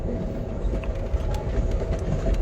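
The Amtrak California Zephyr rolls along the tracks near a bridge, a steady close rumble with faint irregular clicks of wheels over rail joints.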